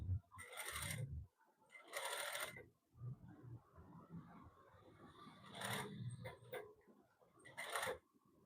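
A sewing machine stitches the hem of a men's suit in short bursts, each run a loud, buzzing mechanical whir that stops and starts again after brief pauses filled with faint handling noises.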